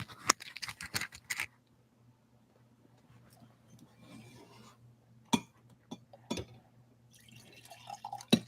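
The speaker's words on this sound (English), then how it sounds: "I'm gonna pour me some tea because I think my tea is done steeping" Tea being poured into a cup after steeping, heard as a few sharp clinks and splashy bursts at the start, then a quiet, faint trickle with scattered knocks and a softer pour near the end.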